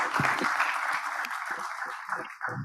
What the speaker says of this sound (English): Wow, round of applause.